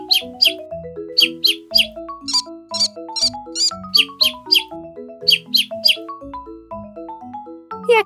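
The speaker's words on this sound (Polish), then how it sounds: "Wróbel ćwierka." Repeated bright sparrow chirps in quick bursts over a cheerful melodic children's tune, the bird calls loud and close at steady intervals throughout.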